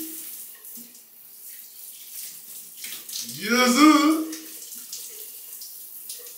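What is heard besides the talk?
cold shower water running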